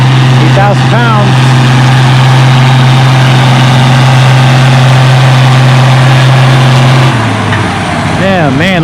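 A pulling tractor at a tractor pull on a rain-soaked clay track, dragging an 8,000-pound sled at 6 mph, drones loudly and steadily before its pitch drops and wavers near the end, with voices over it.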